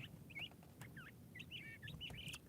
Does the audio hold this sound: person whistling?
no